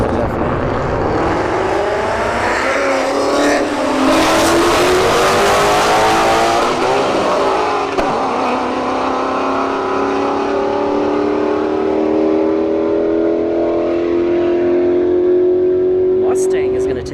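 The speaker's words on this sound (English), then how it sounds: "All right, S197 Mustang versus a Q50." An S197 Mustang and an Infiniti Q50 drag racing down the strip at a motorsports park, loud roaring engines accelerating through rising gear pulls, sustained and close, with a commentator talking over them.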